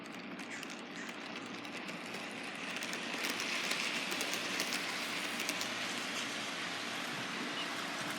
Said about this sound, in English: let's get this Hiawatha train going of sorts.